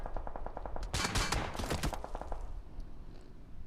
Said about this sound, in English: They heard the gunshot early on.